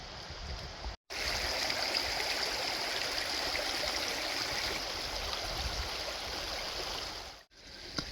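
Water pours steadily down a freezing winter waterfall, a continuous close rushing roar with two brief dropouts.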